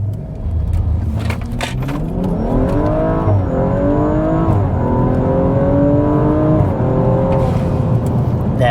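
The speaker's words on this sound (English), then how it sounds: "we're going to go ahead and do our first 0 to 100 attempt here" A Stage 2 BMW M135i accelerates hard from a standstill to 100 km/h, its engine roaring loud and close as the pitch climbs through the gears, with brief drops at each shift before pulling up again.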